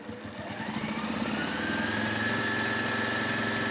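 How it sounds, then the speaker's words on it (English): A sewing machine runs steadily, stitching down the double folded edge of a drawstring shopper bag, its motor hum and rapid needle rhythm continuous and close throughout. "sew down the double folded edge first"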